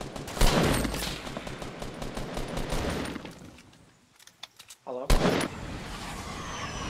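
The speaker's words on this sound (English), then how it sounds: "There's a rocket coming at you!" Gunfire and explosive blasts from the Fortnite video game fill the scene in loud, dense bursts, fading briefly before another sharp blast, with people talking over the action.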